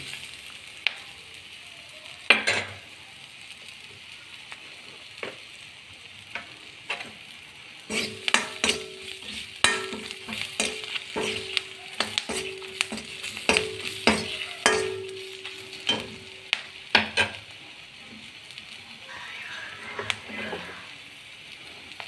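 Spices and pumpkin frying in a pan, a soft sizzle throughout with repeated scraping and clinks of a spoon stirring against the pan.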